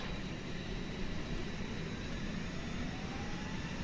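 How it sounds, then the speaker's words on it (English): An Airbus A320neo auxiliary power unit runs up in a flight simulator, a steady broadband jet-like whoosh and rumble with a faint high whine, continuous and moderately loud. "APU start is happening. Let's listen to the APU sounds, chat."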